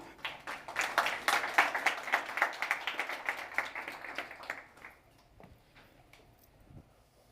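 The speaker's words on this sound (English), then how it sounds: "Please make Miguel Martins feel at home on this stage with your applause as he's pitching Freebird Club." Audience applause at a social innovation hangout, greeting a presenter about to pitch a startup; dense clapping rises quickly, holds for several seconds, then thins out into a few scattered claps and quiet room tone.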